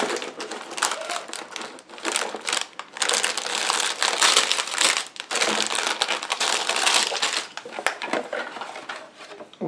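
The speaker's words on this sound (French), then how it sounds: "On déballe." Plastic bags pulled from a Lego Star Wars 75237 box, continuous close crinkling and crumpling with bursts of rustling and brief pauses, loud and busy throughout.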